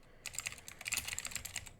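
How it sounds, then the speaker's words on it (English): Fingers tap quickly on a computer keyboard, a dense run of light close clicks in an irregular rhythm, quiet and without talk. "You can probably hear me typing."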